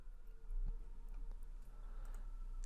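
A computer mouse clicks to open an edit option: a few soft, sharp clicks, close and quiet, against a faint background hum with no talk.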